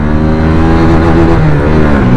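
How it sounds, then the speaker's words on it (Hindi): A 2023 Hero Xtreme 160R 4V 160cc motorcycle accelerates hard through its gears, the loud close engine note climbing steadily in pitch with a shift partway through. "17 पे आके दूसरा गियर डाला और यहीं से तीसरे गियर पे एक गियर निकाल के ये खींची बाइक।"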